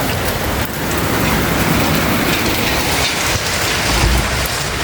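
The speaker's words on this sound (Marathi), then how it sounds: "नंतर पण पाऊस कंटिन्यू पडत राहणार" Steady monsoon rain pours down in a village, a dense continuous hiss of drops striking surfaces close by, loud and unbroken throughout with no voices.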